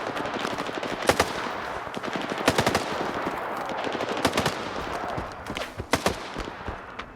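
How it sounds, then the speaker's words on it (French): Machine gun fire in the video game Stalker 2, repeated bursts of rapid gunshots with sharp single cracks mixed in, loud and dense over a constant rumble of battle. "Oui, c'est lui qui tire dans cette direction."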